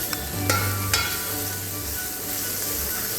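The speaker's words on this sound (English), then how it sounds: "We'll let the garlic saute. Okay, once the garlic is sauteed, we'll add the onions" Garlic sautéing in a pan for a cream of spinach soup gives a steady, close sizzle with a couple of sharp clinks of a utensil against the pan and a low hum underneath.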